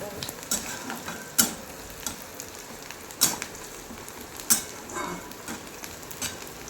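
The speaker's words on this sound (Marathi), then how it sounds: "आपला कांदा बी असा लाल करून घ्यायचा, मस्त लाल चटक." Onions fry in a pan for egg bhurji with a soft, steady sizzle, broken by several sharp clicks and scrapes as a spatula stirs them against the pan.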